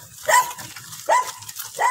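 A dog barks outdoors in Jammu and Kashmir, three sharp, fairly close barks spaced about a second apart over a low rumbling background.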